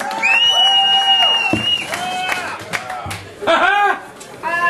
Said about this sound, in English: a big round of applause for Mr. Daryl Horner